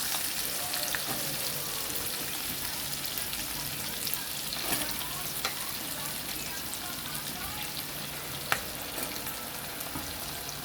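Onions and green chillies fry in a pan for an Andhra-style egg curry, a steady close sizzle with faint stirring clinks that carries on without pause throughout.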